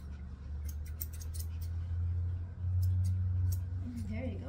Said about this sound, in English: I'm gonna go with the longer scissors